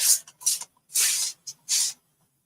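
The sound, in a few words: spraying with a spray bottle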